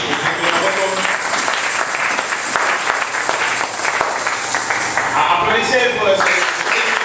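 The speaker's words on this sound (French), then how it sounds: "Applaudissez pour le Seigneur." Church congregation applauding, a dense sustained round of clapping that fills the room continuously, with a preacher's voice speaking over it.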